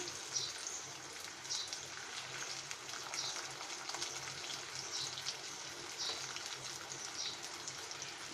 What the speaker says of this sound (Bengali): এখন আমাদের বাকি যে কাকড়গুলো আছে সেগুলো আমরা ভেজে নিচ্ছি